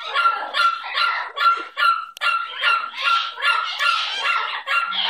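A puppy barks in a rapid, close, loud series of about a dozen yappy high-pitched barks with only brief gaps between them.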